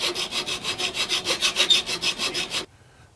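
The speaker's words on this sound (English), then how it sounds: "I'm going to use my file" A metal file squares up the edge of a metal chisel ferrule held in a vise, giving about sixteen steady, rhythmic rasping strokes, close and fairly loud, then stopping abruptly into near silence.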